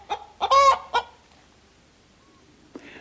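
A little hen clucks in a short burst of three close, bright calls, followed by quiet and a faint later cackle, set within a German audiobook story.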